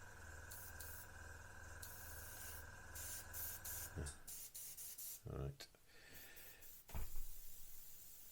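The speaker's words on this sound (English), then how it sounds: "we can spray these here" An airbrush sprays paint onto a Revell 1/32 He 111 model aircraft underside, a soft steady hiss for the first four seconds, then short broken bursts and taps with quieter gaps.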